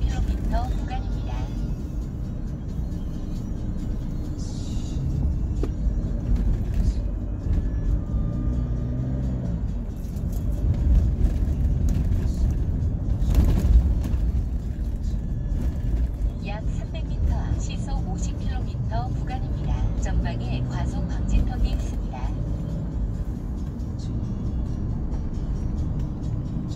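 Car driving along a road in a 50 km/h zone, a continuous low engine and road rumble heard from inside, steady throughout, with people talking over it at times.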